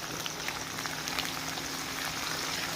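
Jackfruit chips frying in hot oil, a dense, even bubbling sizzle that holds steady and close throughout, with no voices.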